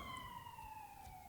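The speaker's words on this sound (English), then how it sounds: "That's a siren right there." Wailing emergency siren with a steady descending tone, faint and distant, heard alone with no talking.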